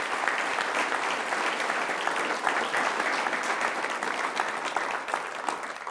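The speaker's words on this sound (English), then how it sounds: "Let's give them all a round of applause." Steady, dense applause from a council meeting audience honoring park employees, sustained clapping filling the room without pause for several seconds.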